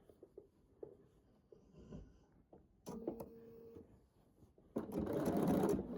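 Bernina sewing machine stitching neon splatter fabric, starting with soft taps and short runs, then a brief steady burst, and finally a louder, faster run of stitching at close range.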